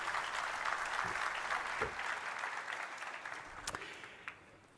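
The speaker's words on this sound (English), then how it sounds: "So a big round of applause to the Oslo team." Audience applause at a live Enterprise Connect 2022 conference demo, a steady wash of clapping that gradually thins and fades toward the end.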